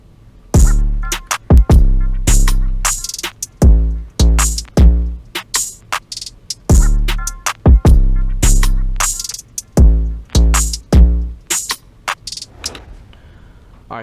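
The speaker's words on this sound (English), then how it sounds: "So basically all the drums together sound pretty much like this." A loud, full drum beat plays with booming bass, kicks and quick, crisp hi-hat and snare hits in a steady hip-hop groove.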